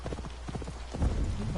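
Horse hooves clip-clop in a steady, close rhythm in a video game, a horse fitted with off-road horseshoes, followed by a heavier low thump and rumble near the end.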